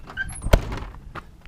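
A single solid thunk of a 2000 Chevy truck door shutting, short and close, with faint rustling before and after.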